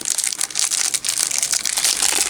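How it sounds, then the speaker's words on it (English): A small plastic test-kit bag for a colorectal screening kit crinkles and tears continuously at close range, with dense rustling and crackling throughout and no voices. "You have to rip the top off like this."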